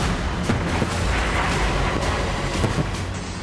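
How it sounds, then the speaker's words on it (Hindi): Explosions from Israeli air strikes on Gaza City roll together into a dense, loud rumble, with repeated booms and sharp blasts layered over one another without a pause. "हमला इतना जोरदार था कि 10 मिनट तक पूरा इलाका धमाकों से थर्राता रहा।"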